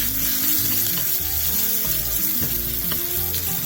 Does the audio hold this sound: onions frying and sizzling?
yes